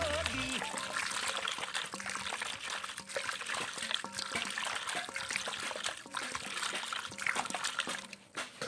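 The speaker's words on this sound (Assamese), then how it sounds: "এইবাৰ অলপ বেছি গৰম পানীয়ে ধুইছোঁ ফুলখিনি ধুনীয়াকৈ এনেকৈ।" Sajina (drumstick tree) flowers are washed in hot water, with continuous trickling, pouring and splashing close by, steady throughout and fairly quiet.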